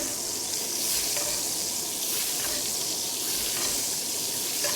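Steak searing in butter in a hot pan, a loud, dense, continuous sizzle that holds steady without pause, with no voices.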